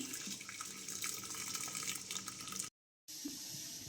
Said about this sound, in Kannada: ಇದರಲ್ಲಿರೋ ಎಕ್ಸ್ಟ್ರಾ ವಾಟರ್ನೆಲ್ಲ ಒಂದು ಪಾತ್ರೆಗೆ ಬಸ್ಕೊತಾ ಇದ್ದೀನಿ